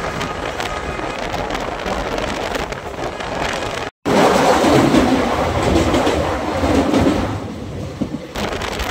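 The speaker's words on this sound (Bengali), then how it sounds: "তাও আবার এখন দেখুন টার্ন করছে, ট্রেনটি একদম রোটেশন করে ঘুরে যাচ্ছে।" Sifhung Express intercity train running fast through a curve, a loud continuous rumble and rattle of wheels and carriages heard from on board, with a brief dropout midway before the roar returns even stronger.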